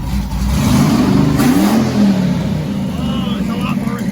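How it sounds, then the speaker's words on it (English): A big-cam twin-turbo LS V8 revs up sharply from a lumpy idle, loud and close, then settles back toward idle. "Let's see what it's like on a rev."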